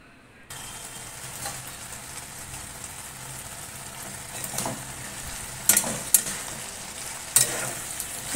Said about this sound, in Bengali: এটা যে ঢেঁড়স আলু পেঁয়াজ কেটে নিয়েছি, ভাজবো।